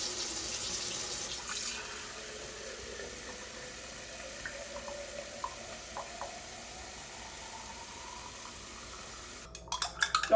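Tap water runs into a container for a homemade remedy, a steady soft pour that fades after about two seconds into quieter trickling and a few small drips, then ends with clatter.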